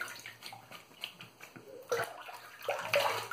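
Water runs from a tap while a boar-bristle shaving brush and razor are rinsed between shaving passes, a steady splashing hiss with brief bursts and clinks, close and moderately quiet.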